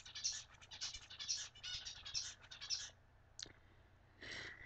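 A bird indoors gives a quick run of high, scratchy chirps, then a brief pause, one sharp note and a final short burst, faint and close.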